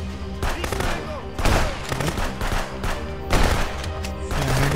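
Rapid bursts of automatic gunfire from the video game Contraband Police crackle in repeated volleys, loud and close, with a faint voice beneath.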